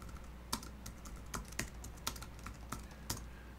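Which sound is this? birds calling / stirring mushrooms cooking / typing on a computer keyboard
typing on a computer keyboard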